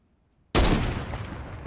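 Gunfire breaks out in a Fortnite match after a moment of near silence, a sudden loud burst that turns into rapid sustained shots holding strong to the end.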